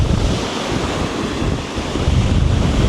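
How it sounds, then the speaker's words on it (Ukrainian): Rough Black Sea waves at Sveti Vlas, Bulgaria, surge and crash continuously while strong wind buffets the microphone with a low, rumbling roar. "сьогодні вітряно, море трохи штормить, неспокійне"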